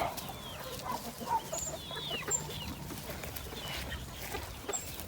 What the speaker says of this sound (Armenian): հավերս չեն կորել։ Բոլորը ստեղ են